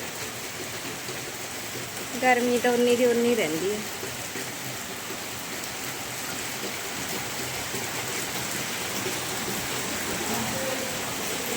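Heavy morning rain falling outdoors, a steady broadband hiss and patter throughout, with a person talking briefly over it.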